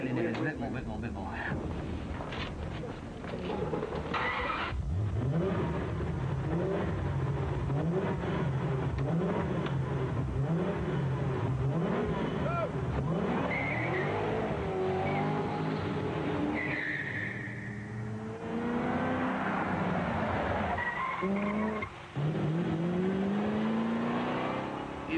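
A V8 car engine revs and accelerates through several rising gear pulls, loud and close, with tyre noise and shifting pitch sweeps, while people talk over it in places.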